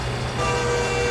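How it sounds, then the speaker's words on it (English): A steady train horn tone sounds from far off in American Truck Simulator, sustained and even, blended into a constant low rumble. "Ah, that's a train in the distance."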